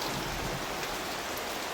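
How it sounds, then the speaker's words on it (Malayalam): Heavy rain pours steadily at a construction site where pillar and box formwork is underway, a dense, loud hiss of drops on surfaces filling the whole moment with no voices. "നല്ല മഴ കേട്ടോ"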